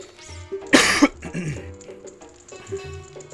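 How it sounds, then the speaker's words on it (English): A person coughs sharply a couple of times straight into a close microphone during a session playing The Legend of Zelda: Ocarina of Time, with game music and sounds continuing softly underneath. "I'm like coughing straight into the mic."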